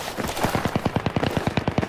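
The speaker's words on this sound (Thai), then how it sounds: "ได้ยินเสียงปืน" Rapid automatic gunfire in Battlefield 3 multiplayer, a fast, even burst of about sixteen sharp shots in under two seconds, loud and close.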